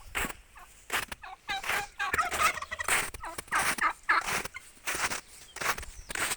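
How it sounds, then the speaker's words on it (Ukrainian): Turkeys gobble repeatedly in bursts, fairly close, with rapid rattling calls overlapping and brief pauses between them. "Ось такі у нас індики"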